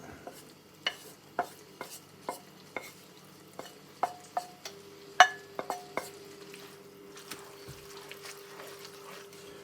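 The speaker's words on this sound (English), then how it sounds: "I'll give it a good stir around, make sure it's all mixed up nicely" Bacon and liver being stirred in a frying pan, with a series of close, distinct utensil taps and scrapes against the pan over a faint low sizzle.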